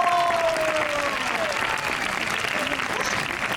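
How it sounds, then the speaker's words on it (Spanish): An audience at a Christmas show premiere at PortAventura World bursts into applause, dense and sustained, with a voice briefly carrying over the start. "¡Un fuerte aplauso!"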